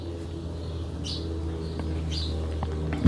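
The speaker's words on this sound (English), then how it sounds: "You probably hear the birds now." Birds chirp and coo just outside a window, short bright calls scattered over a low steady indoor hum, moderately distant and unaccompanied by talk.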